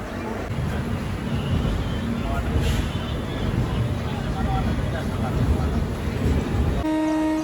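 Steady rumble of a passenger train travelling from Panvel toward Dapoli, a constant roar and rattle filling the whole clip, with a brief horn-like tone near the end.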